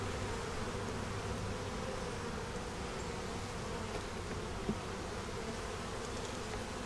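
Honey bees drone steadily on a brood frame lifted from a winter hive, a continuous close buzz that holds even throughout with no voices.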